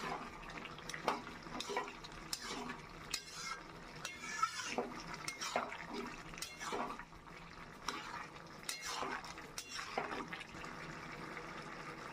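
Bottle gourd and shrimp stirred with a little flour in a pan, with irregular scraping and clinking of a spatula against metal, moderately close, over a faint background hum.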